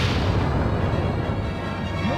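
A torpedo explosion in the Skies of Arcadia Legends battle against the Silver Gigas Zelos, a sustained loud, rumbling blast filling the whole moment with dense, heavy noise.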